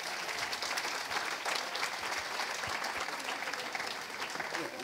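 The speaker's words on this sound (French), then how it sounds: "On peut les applaudir bien fort, les moniteurs." A church congregation claps loudly for youth leaders, dense sustained applause filling the room for several seconds with a few voices underneath.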